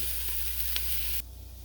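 Bacon, onions and minced garlic sizzle loudly and steadily in a soup pot, then the sound abruptly drops to a quieter simmering crackle.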